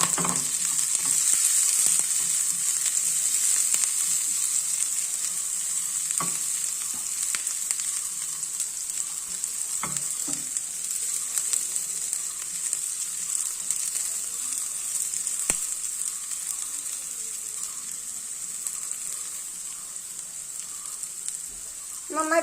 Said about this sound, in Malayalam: ഉള്ളി നല്ല ചുമന്ന് വറുത്തെടുക്കണം